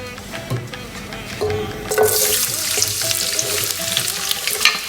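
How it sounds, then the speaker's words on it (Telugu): Onions, green chillies and tomatoes frying in oil in a copper dish, a steady sizzle with stirring scrapes that grows louder and hissier midway, no voices. "అన్నీ కలిపి బాగా గోల్డెన్ బ్రౌన్ వచ్చే వరకు వేపుకోవాలి"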